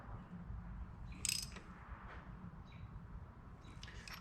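A ratchet tightening a spark plug on a Farmall H tractor, giving faint close clicks in a few short bursts over a low background rumble.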